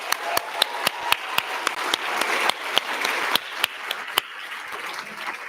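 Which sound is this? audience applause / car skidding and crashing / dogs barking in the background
audience applause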